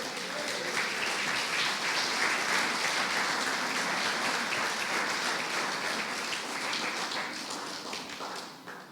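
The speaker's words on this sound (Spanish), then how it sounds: "Dale un aplauso al que vive." Dense, steady applause from a church congregation during a Spanish-language sermon, loud and sustained throughout before tapering slightly at the end.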